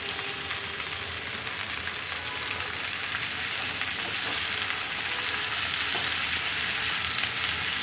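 Chopped capsicum with peas frying and being stirred in a pan, a dense, continuous sizzle of hot oil close by, with faint scraping movement running through it and no talk.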